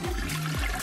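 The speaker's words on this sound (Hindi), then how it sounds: "क्या टॉयलेट में फ्लश करना इतना मुश्किल है?" A cartoon toilet flushes in a short gurgling whoosh of swirling water, close and moderately loud, lasting under a second.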